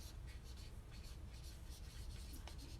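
A permanent marker writes on a craft surface, giving a steady, faint, scratchy rubbing that continues throughout without pause.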